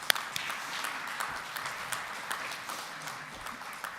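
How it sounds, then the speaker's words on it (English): Audience applause at a Serve Houston graduation ceremony, a steady wash of many hands clapping together, moderately loud and sustained without a break, with no voice rising above it. "I want to give you all a round of applause for that."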